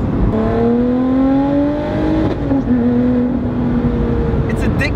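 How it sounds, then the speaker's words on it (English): Supercar engine revving hard and climbing in pitch, with a sharp gear shift midway before the note rises again; loud, close and continuous, filling the whole stretch. "Do you hear those gear shifts?"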